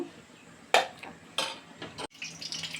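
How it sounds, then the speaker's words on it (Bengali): A spoon stirring thick lentil dal cooked with taki fish in a pot: a few close scraping knocks against the metal with a soft wet bubbling underneath, brief and irregular, no voices. "এখন নাড়াচাড়া দিয়ে দিব এগুলো"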